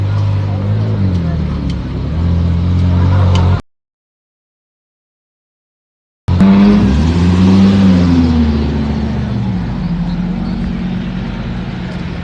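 A Ferrari 458 engine revs and accelerates in a Monaco street setting, loud and close, with harmonic engine tones rising and falling; a gap of silence breaks the sound partway through, and voices talk over it.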